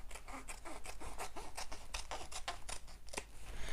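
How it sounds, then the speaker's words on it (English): Scissors snip through excess fabric while a backpack is being made, a quick run of close, crisp cuts repeating steadily for several seconds. "And just cut this excess fabric away."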